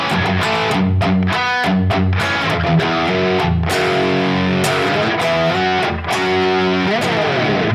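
Distorted electric guitar playing a riff at slow tempo: thick, loud chugging chords and single-note stabs in a steady rhythmic pattern, played alone without talk.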